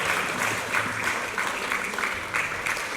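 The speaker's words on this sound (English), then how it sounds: "Round of applause, guys." A talent-show audience claps continuously, a dense, moderately loud patter of hands with a voice faintly audible beneath it.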